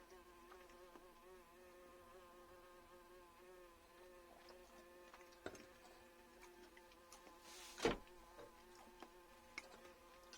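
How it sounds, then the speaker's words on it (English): A wasp buzzes steadily and faintly at an outdoor setting, drawing close with a brief louder pass near the end, and no talking. "There's my wasp."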